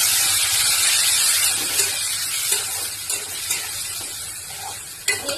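Poppy seed, tomato and green chilli paste going into Malabar spinach frying in a pan, a steady hiss and sizzle with a few soft stirring clicks and taps throughout.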